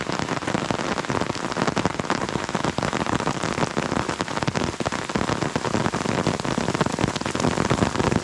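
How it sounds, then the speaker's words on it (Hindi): Heavy rain pours down on a mountain hiking trail in a dense, steady, close hiss of drops hitting surfaces, unbroken and with no voices. "बारिश बहुत तेज़ हो रही है अभी"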